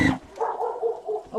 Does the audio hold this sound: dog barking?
yes